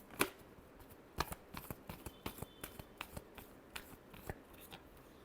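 Tarot cards shuffled by hand up close, a series of crisp riffling snaps and slaps at an uneven rhythm, quiet and alone without any talk.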